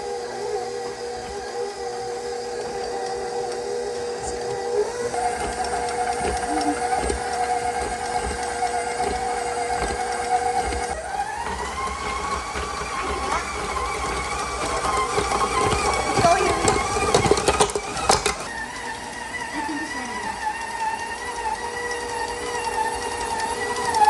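An electric mixer churns cake pop mixture with cream cheese, its motor whirring steadily and shifting pitch in steps as the speed changes, with clatter from the bowl and a louder burst near the end.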